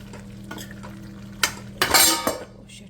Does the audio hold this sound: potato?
yes